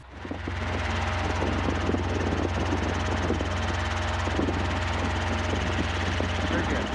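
A helicopter flying with the steady, close drone of its engine and the thudding pulse of its rotor, droning continuously at an even level throughout.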